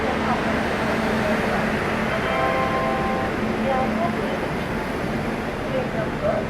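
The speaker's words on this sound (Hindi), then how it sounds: "WAP7 के साथ यहाँ पहुँच रही है आपकी अंत्योदय एक्सप्रेस।" An Antyodaya Express hauled by a WAP7 electric locomotive rumbles steadily into a station platform, a continuous low mechanical drone with faint tonal hums, loud and close throughout.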